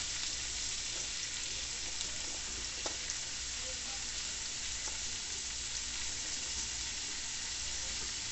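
Dried salted beef (charque) and white onion sauté with garlic in a pan, giving a soft, continuous sizzle that runs unbroken for the whole stretch with faint occasional clicks.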